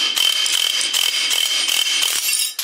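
Steel chisel driven against a clutch bush held in a bench vise, a dense, continuous scraping and grinding with bright metallic hiss and rhythmic strokes, close and loud throughout, no voices.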